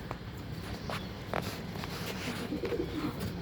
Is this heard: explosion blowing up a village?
no